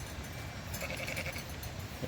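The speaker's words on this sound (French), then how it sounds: "Avec mes amis les moutons là, ils sont juste là." Sheep bleat in a pasture near Trondheim, Norway, a couple of short wavering cries mid-distance over steady wind and background rumble.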